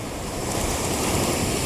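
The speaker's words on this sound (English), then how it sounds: "I'm waiting for the waves to crash." Ocean waves at a pier in Newport Beach, California, heard as a loud, continuous roar of surf with steady wind buffeting the microphone and no distinct separate crashes.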